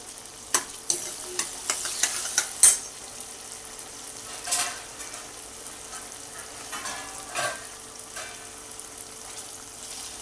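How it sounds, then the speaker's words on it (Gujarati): Tomatoes with salt sautéing in a pan, giving a soft continuous sizzle with a cluster of clinking stirring strokes early on and a few more scrapes later. "બે મિનિટ માટે સાંતળવાનું છે ટમેટા આપણા એકદમ ગળી ન જાય ત્યાં સુધી એને થવા દેવાના છે"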